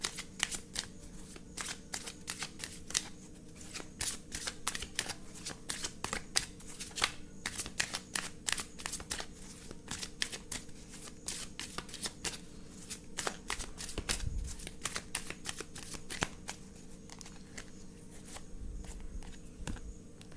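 Tarot cards are shuffled continuously for about twenty seconds, a dense, close patter of crisp riffling flicks with a faint steady hum beneath and no talking.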